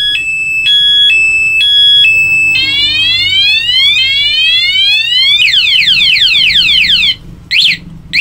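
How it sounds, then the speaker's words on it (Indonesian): An aftermarket alarm on a Honda Supra X 125 motorcycle blares loud and close, cycling through a steady two-tone beeping, then rapid rising sweeps and fast warbling chirps, before cutting out and giving two short final bursts. "Motor disenggol langsung alarm, langsung bunyi."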